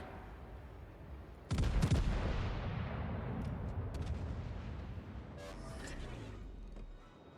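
Naval guns firing in a warship video game, a sudden heavy boom that rolls off into a long, rumbling decay, then further softer shots and crackles in the distance.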